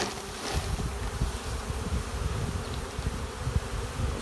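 Dense, steady buzzing of many young house honey bees close by, a continuous droning hum with no voices.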